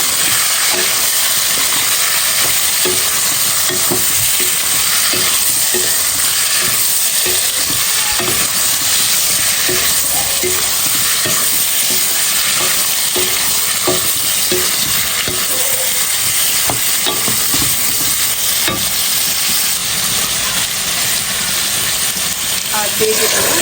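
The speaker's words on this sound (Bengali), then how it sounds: "তো এখন দিয়ে দেবো পেঁপেগুলো, সিদ্ধ করে রাখছিলাম যে পেঁপে, এটাকে কষাই নেব" Boiled papaya is stir-fried with spices in a pan for a hilsa fish and papaya curry, giving a loud, continuous hissing sizzle with scattered scraping stirs throughout.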